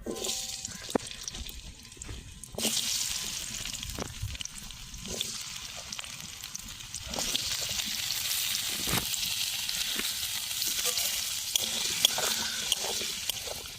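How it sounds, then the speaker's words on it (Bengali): Potato and papaya pieces fry in oil in a clay pot, a steady sizzle with occasional stirring clicks and scrapes, loud and continuous throughout. "এই আলু আর পেঁপেটা ভালো করে ভেজে নেব।"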